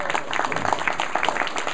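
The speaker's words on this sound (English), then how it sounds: "Everybody give him a round of applause." An audience applauds at a live talk, with dense, steady clapping from many hands that stays loud throughout.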